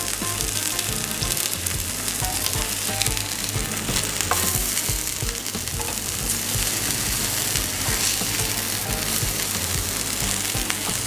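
Cured smoked swordfish fillet frying in a pan, a loud, dense and continuous sizzle that holds steady throughout with no voices.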